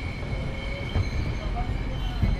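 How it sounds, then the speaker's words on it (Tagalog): An LRT light rail train passes in the city, heard as a steady rumble with faint wheel squeal and a couple of soft clacks, fairly distant. "Ayun, ang LRT, oh."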